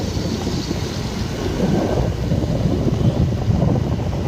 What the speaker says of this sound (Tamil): இன்றைக்கி கொஞ்சம் மழை இருக்குன்னு பார்த்தோம், ரொம்பவே மழை.